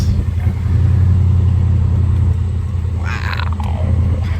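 A restored 1948 Chevrolet Convertible with a 5.7L engine driving down the road, a smooth low engine rumble with steady road noise from inside the cabin, loud and continuous, briefly swelling as it accelerates.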